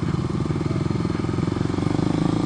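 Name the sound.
motorcycle ridden by children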